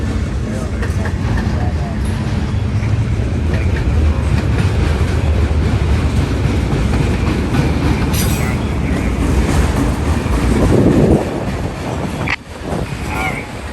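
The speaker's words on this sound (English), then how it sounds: "Hoping to get a couple trains passing." Freight trains rumble past a railway crossing steadily with clattering wheels and wind buffeting the microphone, a brief squeal and voices faintly audible near the end.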